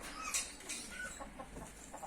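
A broody hen clucks softly in short, scattered bursts, close by, with faint farmyard background noise and no talking.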